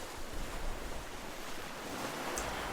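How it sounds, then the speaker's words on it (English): Ocean waves breaking on a shore below dark cliffs, a continuous soft wash of surf with a faint wind rumble underneath, distant and even, with no voices. "the wind carries the constant sound of waves"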